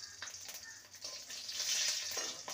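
Slit green chillies drop into hot oil in a pan, giving a soft, close sizzle that swells briefly and keeps crackling quietly.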